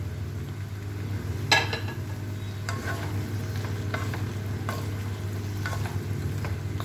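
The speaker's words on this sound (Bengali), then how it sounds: "এখন ভেজে রাখা সবজিগুলো দিয়ে দেব।" Fried cauliflower and vegetables being stirred into sizzling masala in a pan for a Bengali cauliflower and egg curry: steady close sizzling, a few scraping spatula strokes, and a low constant hum underneath.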